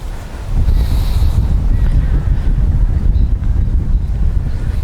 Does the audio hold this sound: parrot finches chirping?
no